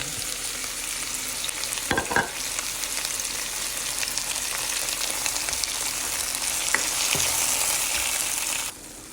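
Ginger, onion and tomato sauté in hot oil for Ilokano pinakbet, a steady close sizzle with a couple of brief stirring scrapes, running loud and unbroken before cutting off near the end.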